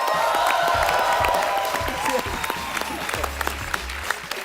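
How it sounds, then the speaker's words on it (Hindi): Studio audience applause on a Hindi comedy talk show, a dense sustained clapping burst with crowd noise, fairly loud and tapering slightly, with speech faintly underneath. "श्रेयास के लिए एक बार जोरदार तालियां"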